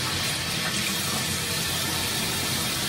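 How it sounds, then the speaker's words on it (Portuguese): Tap water runs steadily into a sink as someone washes their face, a continuous close broadband splashing rush that stays even throughout with no talk over it. "vou lavar minha cara agora"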